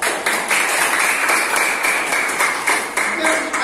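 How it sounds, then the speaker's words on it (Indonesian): A classroom of students claps together, with dense rapid clapping that rises and dips through a few seconds and some voices mixed in. "Ya, baik, tepuk tangan semuanya."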